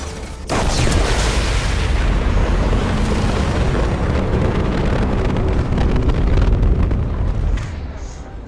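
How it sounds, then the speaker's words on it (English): A loud, sustained blast in Mass Effect 2 rumbles for several seconds after a sudden onset, a deep roaring explosion that slowly fades near the end. "That was a bigger explosion than I was kind of prepared for."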